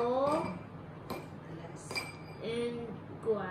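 Solid objects are set into a mug, giving a few separate bright clinks and taps of hard items against the cup, with someone speaking in between.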